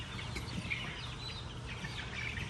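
Young chicks, expected to be hens, clucking and peeping softly in a coop during a thunderstorm, small scattered calls over a steady rumbling background.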